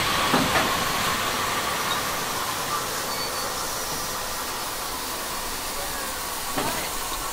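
A steady, broad steam hiss from a full-size class 52 steam locomotive fills the air in winter, with a couple of brief clanks or squeaks rising above the constant noise.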